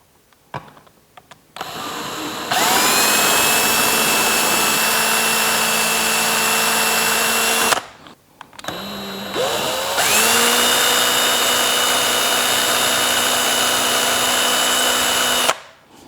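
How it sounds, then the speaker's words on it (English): A small drill bit whines steadily as it bores pilot holes into the cast iron body of an 1880 Thomas Kane Post Office Box Door Bank, in two long, loud, close bursts separated by a short pause. "I'm going to take just a very small drill bit and pre-drill the 4 holes"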